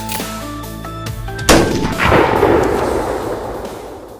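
A single loud blast from a Mossberg 500 Flex pump shotgun cuts in after a short stretch of music, its boom ringing out and slowly decaying.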